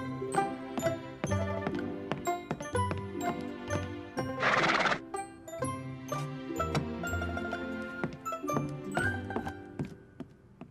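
A cartoon horse neighs and whinnies amid lively music and clip-clop hoofbeats, with a loud burst of noise midway; no talking.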